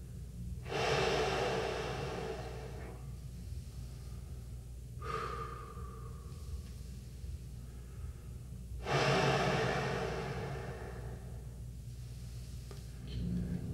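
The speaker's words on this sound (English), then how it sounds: "I'm only expecting the air to flow through freely." Slow, airy breaths from a brass player's air-flow warm-up, with the air passing freely and no note sounding. Two long, soft exhalations and a shorter breath come close to the microphone over a quiet room rumble.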